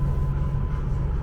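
JR East Tohoku Emotion joyful train running along the coast, a steady low rumble and drone of the carriage in motion, heard from on board, close and continuous with no talk.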